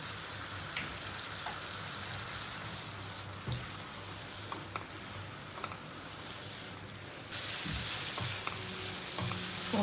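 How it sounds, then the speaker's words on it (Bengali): Masala cooking down in oil over a low gas flame for a fish curry, a soft, faint continuous sizzle with occasional light stirring taps, growing slightly louder near the end, with no voices. "যতক্ষণ না মশলা গাজে তেল ছাড়ছে জল শুকিয়ে ততক্ষণ মশলাটাকে কষে নিতে হবে"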